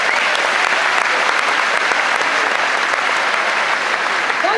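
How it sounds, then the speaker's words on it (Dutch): Loud, sustained applause from a crowd at a Friesian stallion show, following a musical chairs exhibition set to brass band music, steady and dense throughout without pause. "Applaus!"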